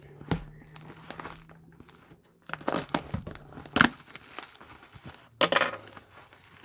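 A taped shipping package of rhinestones gets opened, with bursts of crinkling plastic and tearing tape at close range, separated by brief quiet gaps and faint handling bumps.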